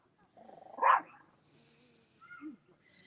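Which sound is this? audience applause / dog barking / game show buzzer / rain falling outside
dog barking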